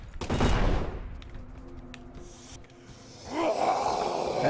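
Shotgun blasts in the video game Deadly Premonition 2: a loud burst of fire at the start decays into quieter game sounds, followed by another rush of noise near the end.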